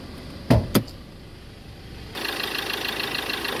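A Ford Ranger XLS automatic with a 2.2 engine: two short thuds near the start, then the engine starts and settles into a smooth, steady idle heard up close.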